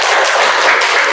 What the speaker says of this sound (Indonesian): Beri tepuk tangan yang meriah dong sama temennya.